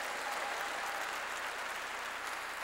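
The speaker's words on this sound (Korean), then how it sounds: "깨달은 사람만 박수 치세요" A church congregation applauding during a Korean pastor's sermon, a steady, even wash of many hands clapping that sounds somewhat distant and soft, with no talk over it.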